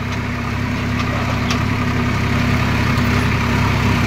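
Swaraj 744 tractor with a short silencer idles steadily at close range, a constant low diesel drone with a firm hum and rough rumble, no voices over it.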